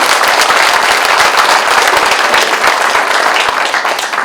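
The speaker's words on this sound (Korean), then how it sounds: "열띤 토론 해주시는 두 분께 박수 한번 보내주시면 감사하겠습니다" Audience at a Jeongseon county mayoral candidates' debate in Sabuk, Gangwon, applauding the two candidates: dense, steady clapping from a crowd, loud and sustained, tapering slightly at the end.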